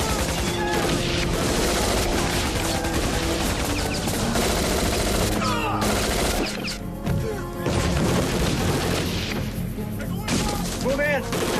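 Sustained automatic gunfire erupts after an order to open fire in a crime drama, loud and dense bursts with crashing impacts and shouting voices mixed in.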